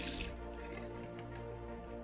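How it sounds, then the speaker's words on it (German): Water runs steadily down a sink drain, a continuous close rushing wash with faint drips and gurgles. "Im Anschluss wird es mit Wasser abgewaschen und verschwindet im Abfluss."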